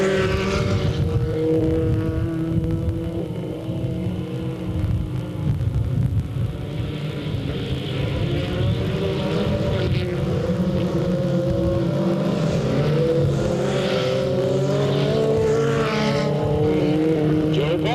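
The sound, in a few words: race cars taking green flag at Delta Speedway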